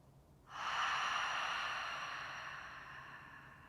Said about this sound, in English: Exhale at the mouth